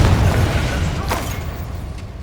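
A Confringo spell explosion in the Hogwarts Legacy video game, a loud, booming low-frequency blast with sharp bursts amid ongoing combat noise.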